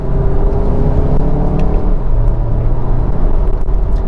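A 2019 Audi Q3 accelerating hard through third gear toward 60 mph, heard from inside the cabin as a loud, steady engine drone with rising harmonics and road rumble throughout, no talking.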